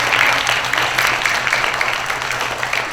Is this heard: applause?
yes